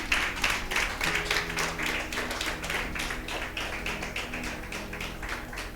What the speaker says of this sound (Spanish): Dele otro aplauso al Señor, hermana.